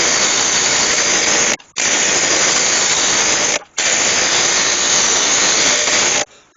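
Oak blank for an urn spinning on a wood lathe while a tool cuts it: loud, dense, steady roaring hiss in three long passes split by brief near-silent gaps.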